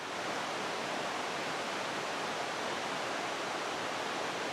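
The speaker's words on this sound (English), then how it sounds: "It looks like all that water you're hearing is, well, Eagle Creek" Eagle Creek in Swain County, North Carolina, rushes in a steady broadband roar of flowing water, continuous and close, with no other sounds or voices.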